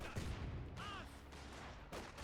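Distant, muffled battlefield fire from a Company of Heroes 2 match during a grenade assault: scattered thumping blasts and crackling shots at low level, with a brief synthetic tonal chirp midway.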